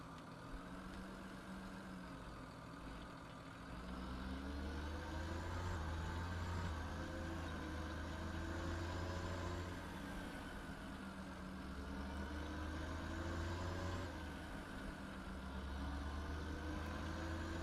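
A tractor engine in a farming video game, Oakfield map, idles and runs steadily with a deep low rumble that swells slightly in cycles throughout, with no talk over it.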